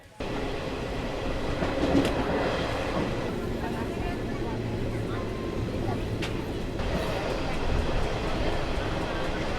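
The Chennai Egmore–CSMT Mumbai superfast express, the Madras Mail, rolls through Karnataka near Matmari with a constant low rumble and wheel clatter heard from on board, occasional sharp clicks, and faint voices mixed in.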